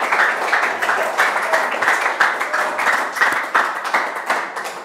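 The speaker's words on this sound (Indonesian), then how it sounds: "Berikan aplaus buat kelompok 1." A classroom audience applauding a student group after a presentation, steady rhythmic clapping from a modest crowd, close and loud, pulsing evenly without talk.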